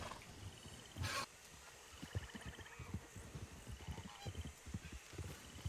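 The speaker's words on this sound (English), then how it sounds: "Your horse is clearly having a temper tantrum." A restless horse in the Red Dead Redemption western video game snorts and stamps, its hooves clopping irregularly over a quiet ambient backdrop, with one loud burst near the start.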